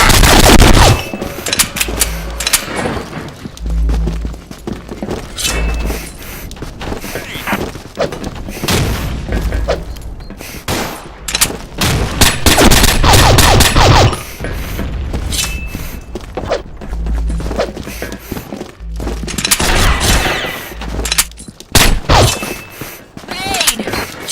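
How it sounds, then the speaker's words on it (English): Gunfire and explosions in the online shooter game Combat Arms, with dense bursts of shots, heavy booms and thuds filling the scene loudly, broken by short lulls, while voices shout over the action. "Open fire!"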